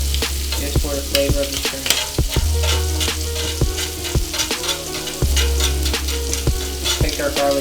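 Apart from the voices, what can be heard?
garlic frying and browning in a pan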